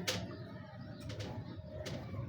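Pigeons in a breeder's loft give soft, low cooing calls amid quiet background rustle, faint and close, with a few brief sharper noises and no talking.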